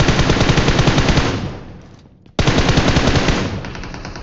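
Loud, rapid automatic gunfire in the video game PUBG, a continuous close burst that fades briefly, cuts out, then resumes at full strength.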